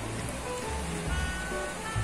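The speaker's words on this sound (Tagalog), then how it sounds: "So, umuulan na." Steady outdoor rain falls as a continuous dense hiss with low rumble underneath, and no voices are heard.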